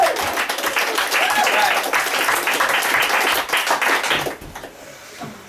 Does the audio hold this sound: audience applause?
yes